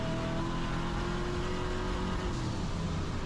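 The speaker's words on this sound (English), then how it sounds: "that's what the car sounded like and looked like." A Coyote engine-swapped car revs loudly nearby, a steady droning engine roar with sustained harmonic tones that hold through the whole short burst with no talking.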